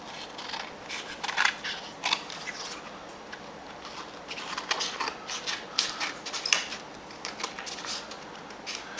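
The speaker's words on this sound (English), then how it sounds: "I'm going to trim around it with my long blade scissors." Long-blade scissors snip repeatedly around the edge of a paper craft card, quick close crisp cuts in irregular bursts, fairly quiet and alone.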